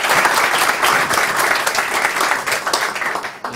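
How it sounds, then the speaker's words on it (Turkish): A studio audience claps loudly and continuously for a performer at the start of a Turkish comedy show, a dense sustained roar of applause that thins slightly toward the end. "Büyük alkış Çağdaş'a."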